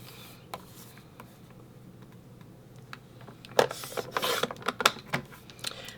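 Paper being trimmed at a desk for a craft project, soft scraping and rubbing that builds into a cluster of sharper slicing strokes near the end, close and fairly quiet.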